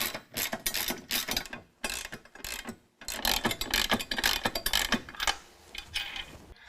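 Rapid ratcheting clicks of a 13 mm socket wrench tightening nerf bar bracket bolts on a 2019 Dodge Ram 1500, close and crisp in repeated bursts with a short pause partway through.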